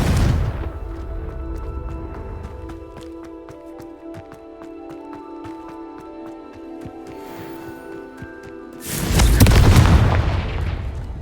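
Confringo fire spell cast in the Hogwarts Legacy video game, a sudden loud blast burst near the end after a stretch of ringing tonal game music and clicks.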